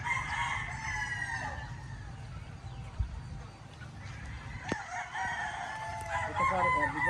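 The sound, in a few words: gamefowl stag roosters crowing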